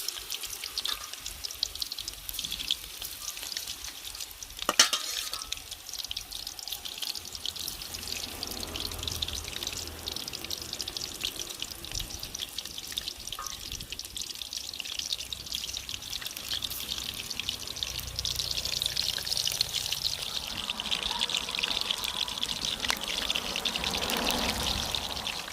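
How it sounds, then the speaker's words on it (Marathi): Soybean chunks frying in hot oil, a continuous bright sizzling crackle that holds steady and swells slightly near the end, close up with no talking over it. "ह्याला आपण तळून घेऊया।"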